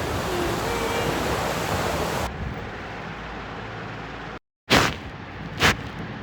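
Surf on a clean beach along the Konkan coast: a steady broadband wash of waves that drops to a softer hiss partway through, followed by a brief silence and two short, louder surges of breaking water.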